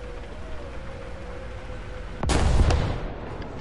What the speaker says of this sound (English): Oh, that's artillery.